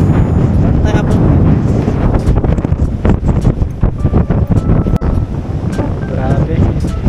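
Strong wind blows at a coastal rock formation at Pagudpud, Ilocos Norte, a loud, gusty buffeting roar across the microphone with sea surf faintly beneath.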